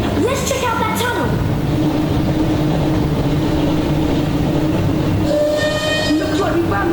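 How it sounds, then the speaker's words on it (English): Hogwarts Express train from the PS1 game Harry Potter and the Chamber of Secrets, steady rumbling rail noise throughout with whistle-like tonal blasts near the start and end, with rain in the background. "Looks like we found the train, Ron."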